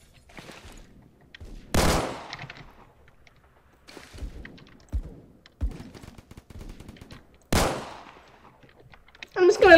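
Video game gunfire, with two sharp, loud gunshots standing out among scattered clicks and quieter shots, and another burst at the very end.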